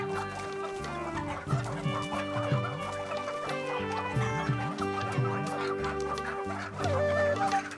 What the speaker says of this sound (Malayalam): സാധാരണ നാടൻ കോഴികളെ വ്യാവസായിക അടിസ്ഥാനത്തിൽ ഇവിടെ വളർത്തുന്നു.